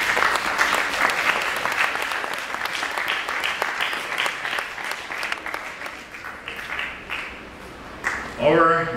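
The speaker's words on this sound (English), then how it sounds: "Let us give them a big hand." Audience applause at a school prizegiving and graduation ceremony, a sustained burst of many hands clapping in a hall that slowly thins out before a voice begins speaking at the end.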